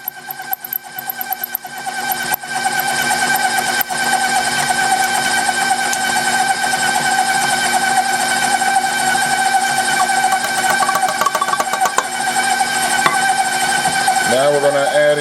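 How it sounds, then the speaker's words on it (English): An electric mixer whirs steadily at medium speed, creaming butter with sugar for a red velvet cake, a constant buzzing drone with a few clicks at the start. "Put my mixer on about medium speed."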